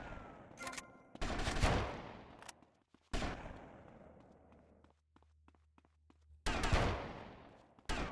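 Gunfire in GTA Vice City Definitive Edition, loud bursts of automatic shots in separate clusters with quiet gaps and faint single pops between them.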